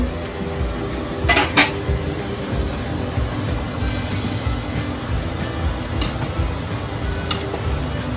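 A pot lid goes onto a pot of lumpia filling on the stove, a brief clattering metal rattle early on, then low kitchen rumble with a couple of faint light clinks.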